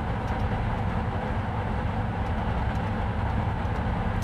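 A train rolls along steadily in the Trainz Railroad Simulator 2019 game on the East Coast Main Line between Edinburgh and Dundee, a loud continuous rumble with faint rail clatter and no talk.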